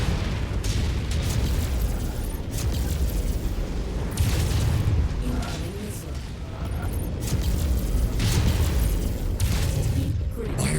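In MechWarrior 5, artillery explodes in repeated heavy, booming blasts over a constant rumbling battle din, loud and dense throughout.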